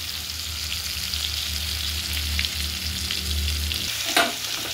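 Bitter gourd and potato pieces frying in a pan, a steady, even sizzle close by, with a brief stir or scrape near the end and no speech.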